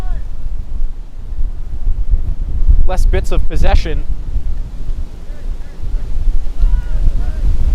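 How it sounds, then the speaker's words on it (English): Strong gusts of wind roar across a soccer field on an island during an amateur league match, a steady loud rumble buffeting the microphone throughout, with a short burst of shouts midway and a commentator talking over it. "30-mile-per-hour gusts coming in on Traverse Island"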